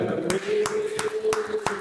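Audience applause at a live dating show, a few sharp, evenly spaced claps that sound sparse and close, with a sustained tone and talking underneath.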